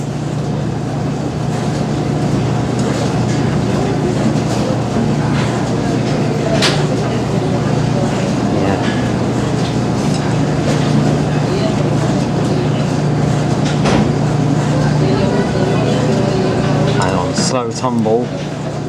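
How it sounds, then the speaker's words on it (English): A Dexter T-300 double-loader commercial washing machine on a hot cycle hums steadily and loudly as it ramps toward spin, with people talking over the machine's continuous drone. "I'll just go straight in the spin."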